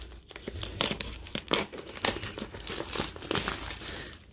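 A taped parcel is opened by hand, with close, irregular crinkling and crumpling of wrapping and sharp tearing bursts repeating throughout, with no talk.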